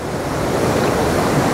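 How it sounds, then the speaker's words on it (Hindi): Rough sea waves crash and churn at Piha beach, a loud, dense, unbroken roar of surf filling the whole moment with no voices. "तो ये देखें जी ठाठे मारता समंदर बहुत ही प्यारा खूबसूरत सा मंजर"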